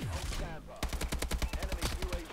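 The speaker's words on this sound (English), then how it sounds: "Why I can hear someone shooting when I'm not even shooting?" Rapid automatic gunfire in a Call of Duty: Advanced Warfare match, a steady run of sharp, evenly spaced shots right after a brief burst of talk.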